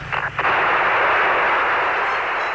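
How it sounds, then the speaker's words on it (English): Apollo 11 lunar module ascent stage blasting off from the Moon's surface, a brief crackling onset that swells into a loud, continuous broadband rocket roar holding steady to the end. "Armstrong and Aldrin safely blast off and reunite with the mothership Columbia to begin the journey back to Earth"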